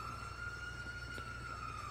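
An ambulance siren in Grand Theft Auto 5 holds a steady high wail, faint and continuous over a low engine rumble.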